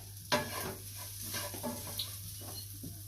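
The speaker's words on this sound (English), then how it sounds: "Reduce the heat to low and stir for a minute" Vegetables are stirred in a pan over low heat, giving a soft sizzle under several distinct spoon scrapes and clinks against the pan, with a steady low hum in the background.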